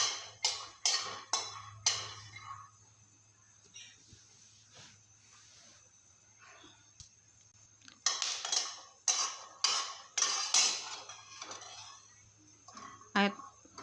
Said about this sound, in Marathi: आता परत आपण त्याच कढाईमध्ये अगदी थोडेसे शेंगदाणे घेतलेत मी एक मूठ भरून आहेत आता शेंगदाणे पण आपण भाजून घ्यायचे आहेत